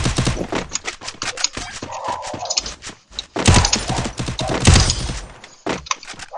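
Rapid, dense bursts of gunfire from a shooting video game in a 4v4 wager match crackle continuously and loudly, with shots packed close together and a few heavier volleys.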